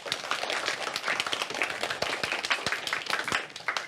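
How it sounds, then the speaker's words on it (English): Students in a classroom clap for themselves, a short burst of brisk, uneven clapping from a small group, close and moderately loud, with a few sharper individual claps standing out. "Give yourself a round of applause."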